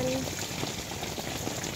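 Steady rain patters on a tent in a dense, continuous hiss, close by and even, with no voices.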